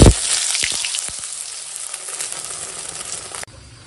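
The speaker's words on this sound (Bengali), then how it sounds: "এখন ডিম ভেজে দেবো একটা ছেলেটাকে" An egg fries in a hot pan with a loud, close, steady sizzle that hisses strongly at the start, then eases a little and cuts off abruptly near the end, with no voices.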